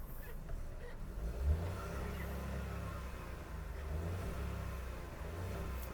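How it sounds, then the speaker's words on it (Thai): A 2022 Honda City 1.0 three-cylinder hatchback engine idles nearby with a low, even rumble that holds steady throughout, with no voices. "เครื่องสามสูบจะต้องเดินประมาณนี้นะ"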